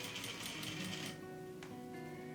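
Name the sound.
sewing machine stitching dress lining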